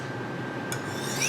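A knife blade is drawn along the corrugated side of a ceramic honing rod, a close, steady raspy scrape that sharpens into a brighter grinding stroke near the end.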